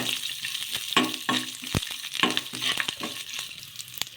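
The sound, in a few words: stirring green chillies and curry leaves frying in a pan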